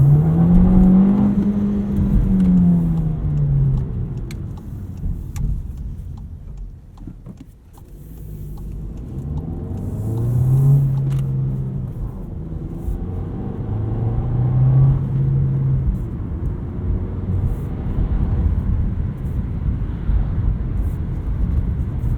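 A 2019 Volkswagen Jetta 1.4T S with a six-speed manual, heard from inside the cabin while driving: a steady low engine hum and road noise, with rising tones as it revs up through the gears, no talking.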